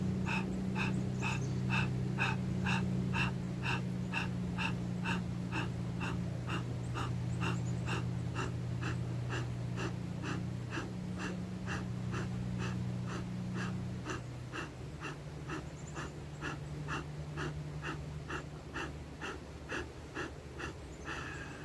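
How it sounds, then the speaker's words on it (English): Rapid pumped exhales repeat in a steady, even rhythm, about two per second, forceful breathwork breaths continuing close up over a low droning music bed. "30 times, pump the exhale and pump the stomach by pulling it in."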